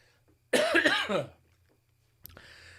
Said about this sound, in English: just a cough there